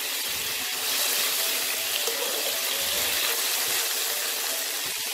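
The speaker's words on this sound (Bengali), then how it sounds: "এবার আমি এতে অল্প জল দেবো, খুব সামান্য একটু জল দেবো" Small splash of water poured into a kadai of Punjabi-style paneer masala with oil separating from the ginger-garlic paste, a soft steady pour and sizzle lasting several seconds, close and alone without talk.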